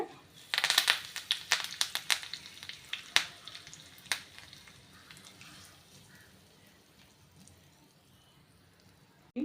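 Mustard seeds and urad dal crackle and pop in hot oil for tempering, a burst of sharp close pops at first that thins to a soft sizzle, with no talking.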